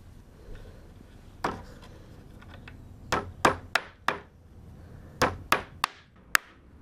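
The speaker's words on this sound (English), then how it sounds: "Keep thumb well clear of hammer." Hammer blows drive nails into wooden fence slats: one sharp strike, then irregular bursts of close, loud knocks, about nine in all, with no talking.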